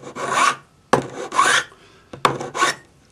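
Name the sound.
filing the end of a metal bracelet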